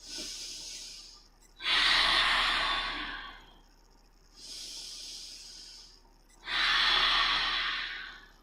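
Deep breathing during yoga practice, slow and close: two long, rushing inhales, each followed by a softer, airy exhale, evenly paced and with no talk.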